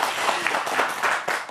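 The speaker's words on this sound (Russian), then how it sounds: "И эти аплодисменты подтвердят мои слова" Brief burst of audience applause during a New Year's evening television show in Gomel, a dense, even wash of clapping heard alone.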